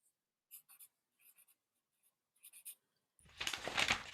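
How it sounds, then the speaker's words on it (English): A hand rubbing across a sheet of paper in short, soft scraping bursts, then a louder, sustained rub near the end, close by in a quiet room. "So I think Jane, you were rubbing your whole hand, weren't you?"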